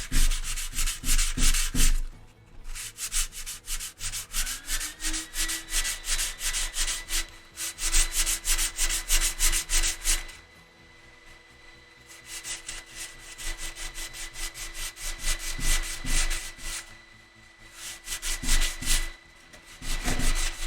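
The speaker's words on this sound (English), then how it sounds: "I'm just sanding all that back and seeing what that looks like" Hand sanding over puttied filler on a wooden instrument, with rapid back-and-forth rasping strokes in loud steady bursts, broken by a few short pauses.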